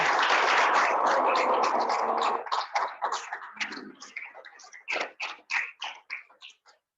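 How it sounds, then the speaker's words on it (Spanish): Audience applause welcoming first-time attendees at a Catholic charismatic renewal formation school gathering, a dense, loud burst of clapping that thins over several seconds into scattered, separate claps. "un fuerte aplauso de bienvenida"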